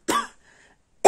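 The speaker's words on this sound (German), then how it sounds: "häufiger kommt das Husten" Two harsh, close coughs from a woman, one at the start and another a second later, with a brief quiet gap between them.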